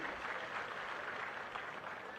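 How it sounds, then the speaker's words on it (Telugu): Sustained clapping from a rally crowd, a steady dense patter of many hands heard at a distance and fairly faint. "గట్టిగా చప్పట్లు కొట్టండి."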